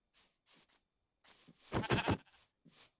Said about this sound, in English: Oh, there's two sheep.